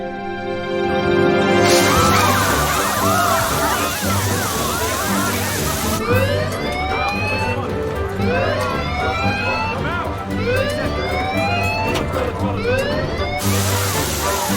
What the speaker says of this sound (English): We've got a fire alarm and sprinkler activation at St. Paul's Church.